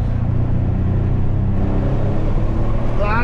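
A heavy sports car with a loud engine, accelerating hard: a deep, steady roaring rumble that stays at full volume throughout, close up, with faint voices in the background.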